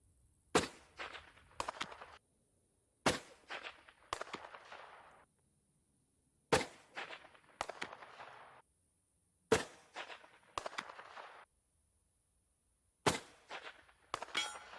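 Rifle shots fired at a target, heard as five sharp reports spaced a few seconds apart, each followed by a quick burst of ringing metallic clangs and rattles from the struck target, fairly distant with silence between.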